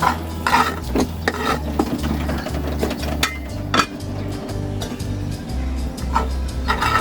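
Vegetable fried rice stirred in a pan, a steady scraping and clatter of utensil against metal with light sizzle and a low hum underneath, close and moderately loud, no talk.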